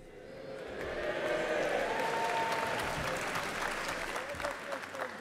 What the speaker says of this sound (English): Applause before I've even said a word.